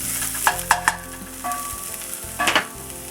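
Onions and chopped garlic frying in a pan, with a quick run of spatula scrapes and taps over a close, steady sizzle and a low hum underneath.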